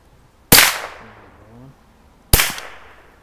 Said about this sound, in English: we're ready to shoot